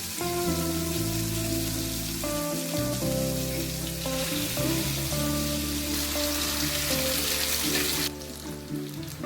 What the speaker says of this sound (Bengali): এদিকে কড়াইতে তেল গরম হয়ে গেছে এর মধ্যে আমি মাংসের পিসগুলো এক এক করে দিয়ে দেবো